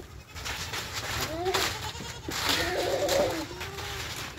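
A pregnant Beetal goat bleats twice in wavering calls, close by and moderately loud, over outdoor background noise.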